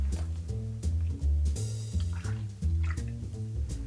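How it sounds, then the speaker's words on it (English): Liquid is poured while an Empress Old Fashioned cocktail is made, a steady dribbling pour heard close, layered with a repeating low tonal pattern throughout. "Pour it in there."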